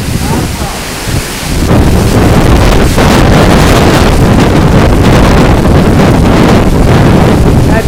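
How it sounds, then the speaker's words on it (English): Roaring hurricane wind from Hurricane Ike batters the microphone at a house, a loud, continuous rushing blast that swells after a brief lull and never lets up. "That's the wind."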